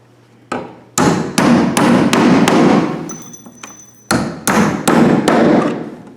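Sharp hammer blows nail an electrical box in place, landing in quick uneven bursts, about a dozen close, loud strikes with a short pause midway, ringing slightly after each hit.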